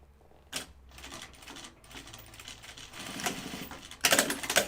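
A sewing machine stitching binding near the presser foot, running in short bursts of rapid mechanical clatter with brief pauses, close by, ending in a louder final run.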